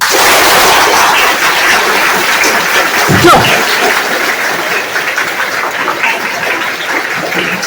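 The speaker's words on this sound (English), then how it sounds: "Last chance. Clap." A crowd applauds loudly and steadily, a dense wash of clapping that sounds like many hands together, with a brief thump partway through.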